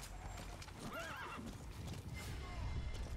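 A horse whinnies in Metal Gear Solid V: The Phantom Pain, a wavering neigh rising over steady clip-clop of hooves and game background noise, with someone talking faintly alongside.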